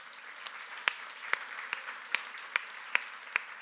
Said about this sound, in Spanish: Si lo crees, dale un fuerte aplauso al Señor.